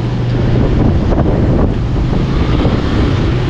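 Strong, steady super typhoon wind in the Philippines roars and buffets the microphone without letup, a dense rushing noise with no voices.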